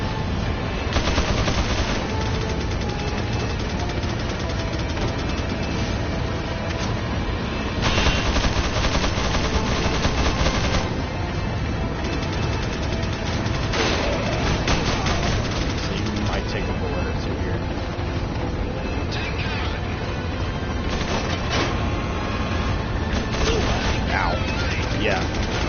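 Dense, sustained gunfire from enemies in the video game Resident Evil 4, with bursts and rattling shots running loud and unbroken throughout, heavier in the middle and near the end, all mixed with other game sounds.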